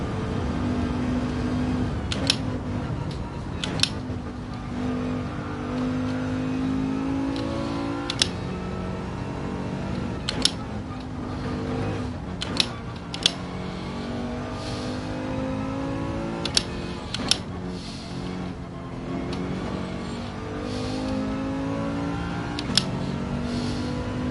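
Mercedes-AMG GT4 race car engine in Gran Turismo 7 on the Nordschleife endurance layout, a steady sustained drone with shifting harmonic tones as it accelerates, occasional sharp clicks over the top, no talk.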